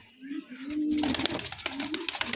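Fancy pigeons for sale give a soft, repeated cooing, close and clear, with a steady rustle of other birds and activity behind them.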